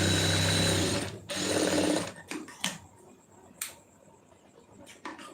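A sewing machine stitches a lining blouse in two steady runs, then goes quiet apart from a few sharp clicks and taps as the fabric is handled.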